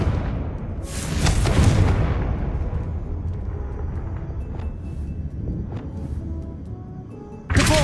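Confringo fire spells blasting in Hogwarts Legacy, a loud burst of explosive booms with crackling debris, then a quieter stretch of smaller impacts before another sharp blast at the end.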